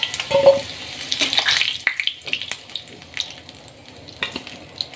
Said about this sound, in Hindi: आलू फ्राई कर लेंगे, हमारा तेल गर्म हो गया है, लाइट गोल्डन तक हम इसको फ्राई कर लेंगे